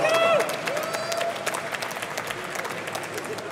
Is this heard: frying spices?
no